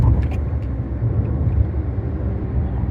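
Wind and tyre road noise inside a Karimun car on a toll road, a loud steady low rumble and whoosh filling the cabin, with a few faint ticks near the start.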